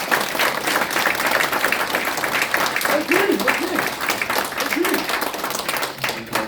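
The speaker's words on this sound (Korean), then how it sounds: "서서 우리 주당 대표님 뜨거운 박수로 환영해 주시면 감사하겠습니다" An audience at a Korean political party press conference gives the party leader sustained, loud applause, a thick continuous wash of clapping with voices mixed in.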